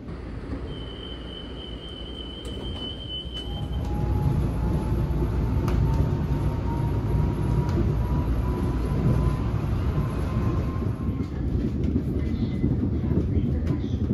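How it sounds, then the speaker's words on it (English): A monorail train rumbles steadily close by as it approaches a station, with a low rolling roar, faint rail squeal and a rising whine as it runs in. "The train I was on went down the tail track, automatically changed direction, and came back to the station"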